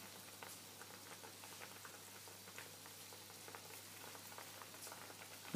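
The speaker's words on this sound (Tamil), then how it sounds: "இப்போ வந்து அது கொதிக்க ஆரம்பிச்சிருச்சு." Soft bubbling and popping of tomato sambar simmering in a pot, a steady low crackle with faint hum underneath, no voices.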